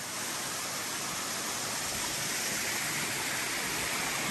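Water pours steadily over a waterfall along the Appalachian Trail, its flow lighter than normal, making a constant hissing rush heard up close with no pauses.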